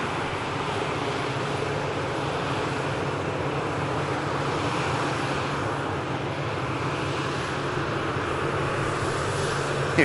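A Pegasus Boeing 737 taxiing at Manchester Airport gives a continuous, even jet-engine drone with a steady hum, moderately loud and unchanging for the whole stretch, with no voices.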